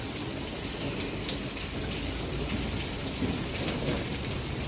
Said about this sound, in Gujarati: વરસાદ કઈ બંધ થતો જ નથી.